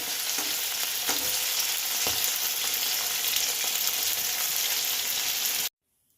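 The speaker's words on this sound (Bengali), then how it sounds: "পুরো চিংড়িটা আমি ভেজে নেব" Battered prawns fry in hot oil in a wok, a loud steady sizzle with bubbling crackle and a few stirring clinks, running continuously before cutting off abruptly near the end.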